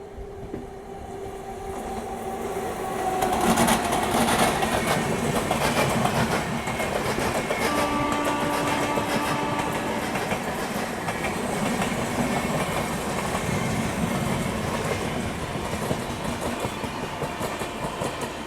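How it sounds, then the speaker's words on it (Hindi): A train rolls past on the main line at a station on an Indian railway, a loud steady rumble with rhythmic clickety-clack of wheels and brief tonal squeals, rising quickly and holding for many seconds. "मेन लाइन पे कोई तो ट्रेन आ रही है।"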